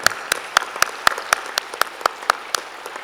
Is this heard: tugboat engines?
no